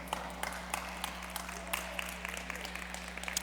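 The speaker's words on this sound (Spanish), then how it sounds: "Un aplauso a Dios." Congregation applauding during a church sermon, a faint, steady patter of many hands clapping at a distance, continuous and even with no voices over it.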